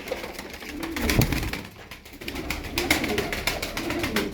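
Young tumbler pigeons cooing, soft repeated low coos rising and falling across the whole stretch, fairly close, with no talk.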